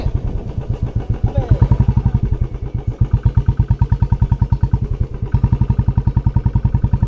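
A motorcycle engine idles close by with a fast, steady, loud thump. It carries on through the whole stretch, and a faint voice comes in briefly near the start.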